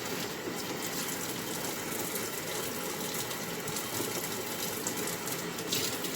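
Tap water runs steadily while vegetables are washed in a home kitchen during Sunday dinner preparation, a continuous even hiss with no talking.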